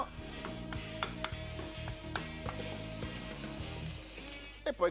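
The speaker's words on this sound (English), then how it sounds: "And I can add the minced pork." Minced pork fries in oil with a clove of garlic in a pan for Italian stuffed pasta shells, a soft steady sizzle with rhythmic stirring and scraping of the spoon, then a couple of louder bumps at the end.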